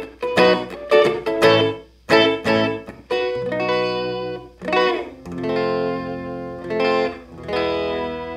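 An electric guitar runs through a reverb pedal set to a small, bathroom-like room sound, playing plucked notes and chords that ring out and decay in a short wash.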